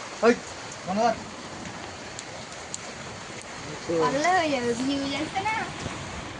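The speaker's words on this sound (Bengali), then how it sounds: "এই যে দেখো কত পানি হচ্ছে" Rain falling as a constant hissing wash of drops, with voices speaking briefly over it, including a lively stretch of talk toward the end.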